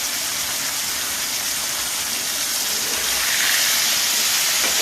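Fish coated in salt and turmeric fry in hot oil, giving a dense, continuous close-up hiss and sizzle that grows slightly louder toward the end.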